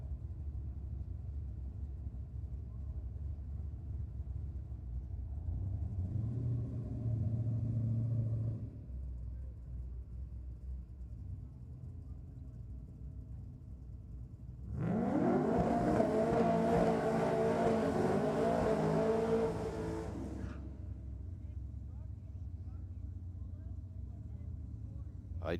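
An HSV Commodore and a one-tonner launch and accelerate at a Sydney drag and burnout night: low distant engine rumble first, then a loud, rising roar of revving engines that fades away, with crowd noise beneath.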